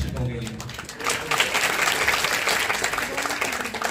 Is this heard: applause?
yes